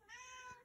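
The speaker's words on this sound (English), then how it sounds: "It's my cat. He wants in the utility room." A house cat meowing to be let into a utility room, a single short drawn-out meow, faint and somewhat distant, with no talk.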